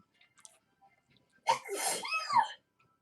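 A single short sneeze from a person, close and fairly loud, preceded by a quiet pause with faint small sounds and followed by silence.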